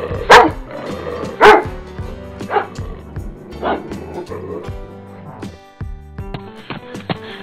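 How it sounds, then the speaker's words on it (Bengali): A cartoon dog barking loudly, a few sharp, close barks spaced out at first, then softer yips and whimpers trailing off. "সে মাঠের ধারে জোরে জোরে ঘেউ ঘেউ করতে লাগলো"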